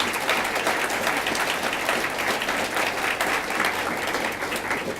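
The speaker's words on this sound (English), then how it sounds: "Let's give a big round of applause to the organisers." A conference audience at Clarity2016 breaks into sustained, dense applause that stays loud and even throughout, with no speech heard.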